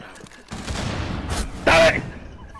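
Gunfire in Rainbow Six Siege crackles as a brief burst of close shots, with a sharper report near the end, while a player talks over it.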